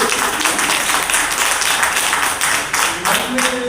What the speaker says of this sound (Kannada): ಡಾಕ್ಟರ್ ಕೃಷ್ಣ ಶೆಟ್ಟಿ ಅವರ ಡಾಕ್ಟರ್ ಚಪ್ಪಾಳೆ ಹೊಡಿಸಿ